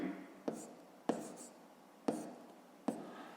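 A pen writes by hand during a fifth-grade math exercise, making four soft, sharp strokes or taps spaced about a second apart against a very quiet background.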